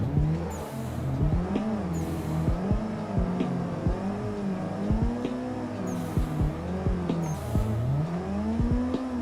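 Turbocharged car engine in the Assetto Corsa racing sim, drifting: a loud, continuous engine note rising and falling through repeated revs and shifts, with periodic bursts of tire squeal and turbo hiss, no voices.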